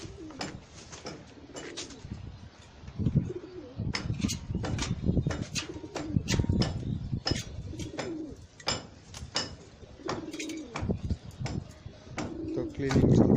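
Pigeons coo inside a loft while it is being cleaned, a steady low cooing from several birds with scattered clatter and scraping, heard mostly under and around talk.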